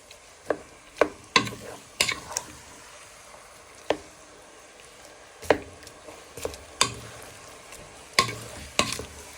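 Chinese beef brisket being stirred in a hot pan, a spatula scraping and clacking in irregular sharp strokes over a soft steady sizzle, close and alone.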